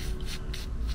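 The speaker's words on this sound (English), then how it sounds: "I'm going to start with a pencil." Pencil sketching on watercolor paper: three quick, soft scratchy strokes rasp close by within a second, over a faint background hum.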